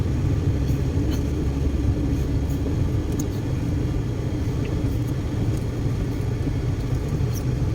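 Steady low rumble of road traffic inside a car stuck in bumper-to-bumper congestion near Cabanatuan, Nueva Ecija, where tricycles keep cutting in; continuous engine and road drone throughout, with no talk.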